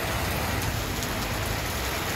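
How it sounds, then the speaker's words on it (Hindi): Heavy rain pours down steadily on a street, a dense, continuous hiss and patter of drops on surfaces, loud and close throughout with no voices. "हाँ जोरदार बारिश हो रही है।"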